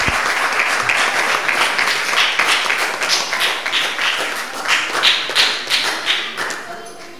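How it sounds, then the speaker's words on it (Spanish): A group at a local development forum during the Barra del Colorado festival applauds, steady dense clapping that keeps going and then gradually thins out toward the end. "les voy a pedir un fuerte aplauso para los diferentes compañeros que participaron"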